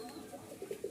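Pigeons of Andalusian and almond colouring with feathered feet give a brief, faint, soft coo at close range.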